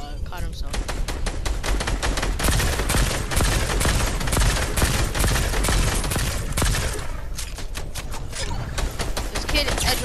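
Rapid bursts of automatic gunfire and single shots from a shooting video game crackle loudly and almost continuously, layered with dense in-game action noise.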